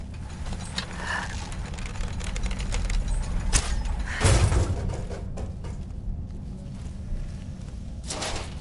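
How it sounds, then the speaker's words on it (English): Mechanical whirring and creaking of a Dwarven Sphere automaton in Skyrim's Dragonborn DLC, a steady geared clatter with ratcheting clicks and a louder surge midway, heard alone without speech. "I hear the Dwarven Sphere."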